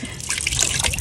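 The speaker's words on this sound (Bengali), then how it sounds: "জলটা ছপক ছপক করে দাও, জলটা ছপক ছপক করে।" Water being splashed around during a bath at a relative's home, a short, close, continuous trickling and sloshing.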